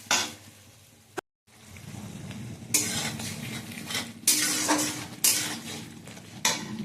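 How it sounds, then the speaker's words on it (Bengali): Ground spice paste fried and stirred in a pan, close and fairly loud: bursts of sizzling with repeated metal spoon scrapes and clinks against the pan, broken once by a brief silence. "যে মশলাটা আমি করেছিলাম, সেই মশলাটা দিয়ে এবার আমি খানিকক্ষণ ধরে ভালো করে কষিয়ে নেব মশলাটা।"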